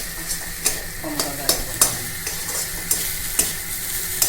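Jute greens mixed with crushed fried bori are stirred in a pan, a close sizzle under a regular series of spatula knocks and scrapes roughly every half second, with no talking.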